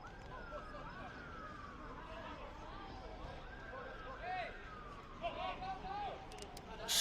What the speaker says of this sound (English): Sirens aplenty outside the ground